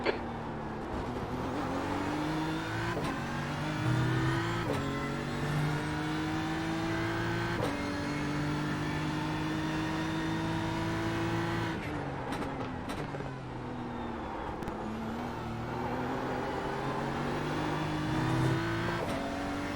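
A race car's engine in a sim-racing game of a sports car championship round at Zolder circuit, a steady loud high drone that rises in pitch through the gears, with sharp drops at each upshift, running on for the whole stretch with no talk.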